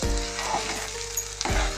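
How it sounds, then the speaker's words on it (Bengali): Carrot sandesh mixture with milk powder is stirred in a pan, giving a brief close scraping and soft sizzle that pauses and resumes near the end. "এবার আমি এটাকে ভালো করে আবার নাড়বো।"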